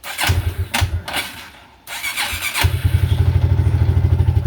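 A carbureted ATV engine, primed with a primer kit, cranks in a few short bursts, then catches and settles into a steady, rapid, loud idle close by.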